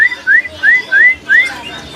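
A caged pastolan songbird at a bird market kiosk repeats a clear rising whistled note about five times in steady rhythm, close and prominent over a quiet background.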